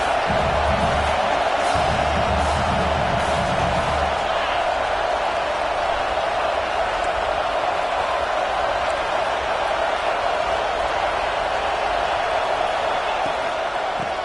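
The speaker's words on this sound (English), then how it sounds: "this crowd is turning it up a notch" A college football stadium crowd roars as a second down approaches, a dense, sustained wall of distant cheering and noise.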